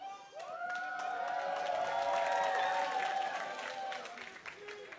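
An arena crowd at a League of Legends esports match between Dignitas and Immortals applauds and cheers in a loud, sustained roar with whistles and shouts, filling the space evenly before tapering slightly.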